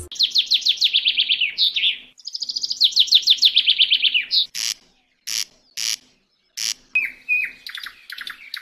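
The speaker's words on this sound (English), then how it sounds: "Birds chirp for all sorts of reasons." Small birds chirp in rapid, bright trilled phrases, then break into sharp isolated tweets and a few short calls, close and clear against a quiet background.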